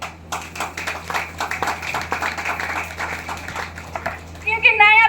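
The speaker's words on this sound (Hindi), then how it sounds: "चलिए आप लोग के लिए ताली है," A small group of listeners at a talk claps in scattered, uneven bursts, fairly close, with some voices around them and a louder flurry near the end.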